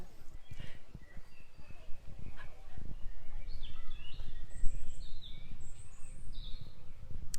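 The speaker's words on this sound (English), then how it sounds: "I can hear a robin in the distance" A robin sings faintly in the distance, short high chirping phrases half buried under nearby hoof-like clopping and low background rumble.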